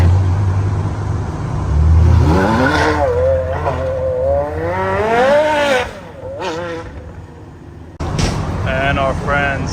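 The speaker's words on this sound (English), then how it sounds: "MC12 Corsa on the road." A Maserati MC12 Corsa out on a public road during Monterey Car Week: a loud engine rises and sweeps in pitch as the car accelerates past nearby, then fades, with a second burst of engine noise near the end and some crowd noise around it.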